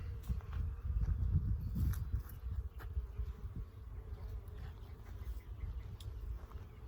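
Honey bees at a hive building comb and storing honey, a dense close buzzing hum that is loudest at first and then settles to a steady drone.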